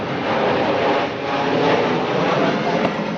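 A passenger airplane drones overhead along a residential flight path, a steady, fairly loud broadband roar that holds level for the whole stretch with no talking.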